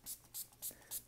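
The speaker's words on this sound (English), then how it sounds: "Let's give this a spray, keep everything alive." Spray bottle misting water onto a watercolor painting: four quick, evenly spaced hissing spritzes, close and soft.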